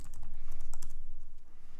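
Fast keyboard typing while writing a heap insert function in code, a quick run of light key clicks, close and moderately quiet, with no talking.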